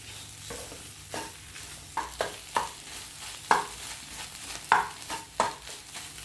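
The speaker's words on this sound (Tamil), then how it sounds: "இப்போ இது எல்லாத்தையும் சேர்த்து நல்லா மிக்ஸ் பண்ணி விட்டுக்கலாம்" Egg kothu bread mixture being stirred in a pan, with a spatula scraping and knocking in irregular bursts over a soft sizzle, close up with no talk.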